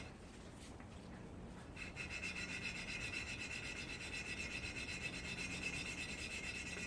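A tiny small-engine valve is lapped into its seat by hand, a steady gritty rubbing and scraping that continues without pause, quiet and close.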